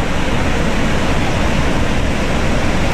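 A river flowing beside the Old Mill in Pigeon Forge, a steady, dense rushing of water that stays close and unchanging, with no voices over it.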